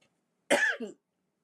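A woman with a lingering cough gives one close, dry cough in a quiet room.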